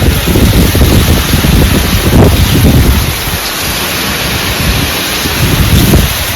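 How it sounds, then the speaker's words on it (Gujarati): Heavy rain pouring down with gusting wind, a dense, loud, continuous roar of rain and buffeting wind noise on the microphone, steady throughout with no speech. "વરસાદ એ શરૂ થયો, તમને અવાજ આવતો હશે."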